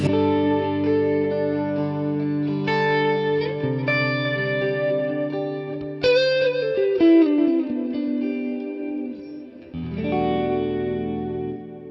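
An electric guitar, played through a Quad Cortex, rings out sustained worship-style chords and melodic notes with a shimmering, wavering chorus effect and a touch of reverb.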